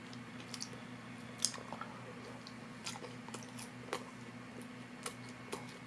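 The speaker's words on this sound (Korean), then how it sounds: "자, 이제 두 번째로 참치초밥 먹어보겠습니다." Someone chews tuna sushi made from a Popin' Cookin' candy kit, with soft, sticky, squishy bites and small clicks repeating close to the mic over a steady background hum.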